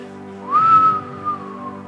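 A person whistles one soft, smooth note that rises and then glides slowly downward, imitating a gentle breeze; clear and close, with no other sound around it.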